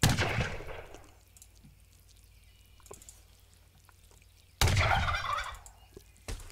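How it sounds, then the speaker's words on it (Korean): A turkey in the video game Age of Empires 3 gobbles and dies, with a loud burst of gobbling at the start and another strong burst later, over quiet game ambience between them. "불쌍한 칠면조는 영원히 죽고 있고."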